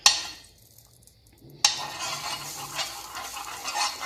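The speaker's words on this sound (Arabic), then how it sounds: "عندي دوكا زبده ديالي هنايا نواسي نسخن المقله ديالي سخونه." Butter melts in a hot frying pan for sweet crêpes, with a faint sizzle, two sharp metallic clinks of a pan or utensil, then a steady soft crackling close by.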